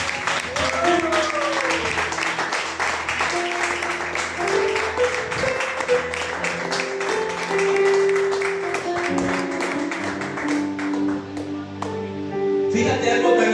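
A church congregation applauding, with dense, steady clapping that carries on for several seconds while voices and background tones run underneath.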